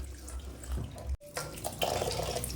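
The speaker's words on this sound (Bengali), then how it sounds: "এইভাবে আমি 6-7 বার ধুয়ে নেব" Ash gourd pieces being washed by hand in a bowl of water, a steady close sloshing and splashing with a brief break in the middle before the agitation resumes.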